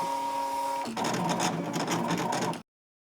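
A Brother ScanNCut2 CM350 cutting machine runs up close, a steady electronic whine shifting into a busier whirring, rattling motor sound before it stops abruptly.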